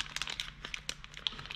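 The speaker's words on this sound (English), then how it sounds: "Rip that open" A sealed sports card pack is torn open close by, a short quiet burst of crinkling and ripping foil wrapper.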